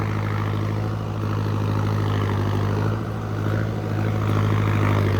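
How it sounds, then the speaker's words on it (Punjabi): An Arjun 605 DI tractor engine idles or runs nearby with a loud, steady low drone and a continuous rumbling throb that holds evenly throughout, with no voices. "ਆਵਾਜ਼ ਬੜੀ ਉਸ ਤਰ੍ਹਾਂ ਕੀ ਆ ਜਿਸ ਤਰ੍ਹਾਂ ਟਰੱਕ ਦਾ ਨਹੀਂ ਹੋਏਗਾ ਜੈਸੀਬੀ ਵਾਲੀ ਆਵਾਜ਼ ਆ ਫੁਰ ਫੁਰ ਵਾਲੀ"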